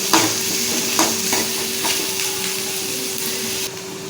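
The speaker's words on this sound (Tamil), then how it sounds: "வெங்காயம் நல்லா பொன்னிறமாக வதங்கணும்." Onions sautéing in a pan for a paneer masala dosa filling, a steady sizzle broken by a few sharp stirring scrapes near the start, close and loud under a faint constant hum.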